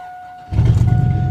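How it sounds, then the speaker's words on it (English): A 2500 HD pickup truck with an 8.1 liter big block gas engine, almost 300,000 miles and needing exhaust work, fires up abruptly into a loud, rough, rumbling idle close by. "Needs some exhaust work, but it starts up every time."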